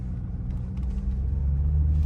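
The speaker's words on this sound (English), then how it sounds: "Oh, my car is sliding." Car driving uphill on a snowy road, a low, steady engine rumble building slightly in strength over a couple of seconds, close and continuous with faint cabin noise and no talking.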